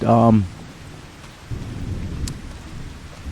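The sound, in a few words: rain and thunder in a video game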